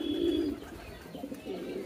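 Pigeons coo in a loft where a keeper breeds king pigeons, a low rolling coo opening loud and near, then softer repeated coos over a steady background hum.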